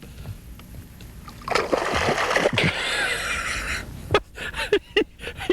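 Big hooked bass thrashing at the surface on a fishing trip, a burst of splashing and churning water lasting a couple of seconds, followed by lighter dribbling splashes and drips, close and fairly loud.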